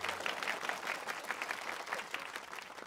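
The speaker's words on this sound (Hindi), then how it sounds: "तालियां" Steady applause from an audience, dense overlapping claps that hold at an even level throughout.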